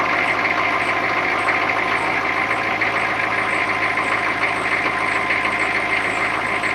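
Short school-style bus engine idling just after starting, a steady continuous mechanical rumble with a faint rattling tick, close and unchanging throughout with no voices.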